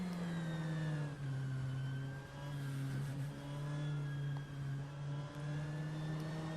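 A race car engine in rFactor 2 holds a loud, steady drone close up, its pitch rising and falling slightly with small dips as the throttle eases, and no voices are heard.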